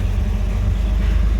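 A carbureted 4.2-litre inline-six idles in a vehicle with a four-speed manual gearbox, a loud, close, deep rumbling throb that holds steady through a brief stretch.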